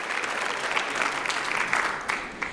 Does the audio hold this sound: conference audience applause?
yes